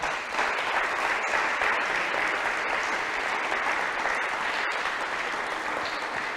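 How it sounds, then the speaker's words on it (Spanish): A church congregation applauds in response to a sermon, a dense, continuous roar of clapping that holds at an even level for several seconds without a break or voices. "Un aplauso a la palabra de Dios"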